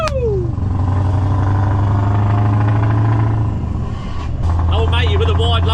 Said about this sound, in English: Do like this retarder. Listen to it.